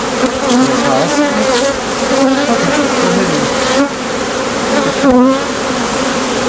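Dense honey bee swarm buzzing loudly and continuously right at the hive during a swarm rescue, a thick droning hum with shifting pitch as bees fly close past.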